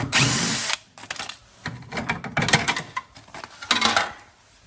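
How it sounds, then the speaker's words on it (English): A power drill backing screws out of a U-Line unit during a thermostat replacement: several whirring bursts of motor spin, each a second or so long, separated by short pauses and light metallic clinks, loud and close with no speech. "We're going to start removing all the screws."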